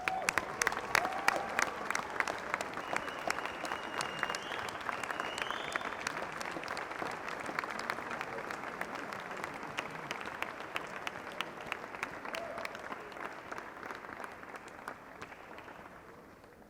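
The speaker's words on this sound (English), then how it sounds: "to just say thank you with a round of applause" Graduates at a university ceremony for the School of Sport, Health and Social Sciences give their friends and family a long round of applause, crisp individual claps audible within the crowd, gradually thinning toward the end.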